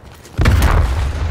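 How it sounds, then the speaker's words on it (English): A flashbang grenade in Call of Duty: Black Ops Cold War goes off as a single sudden, booming blast, followed by a ringing, roaring tail that holds loud to the end. "Flashbang."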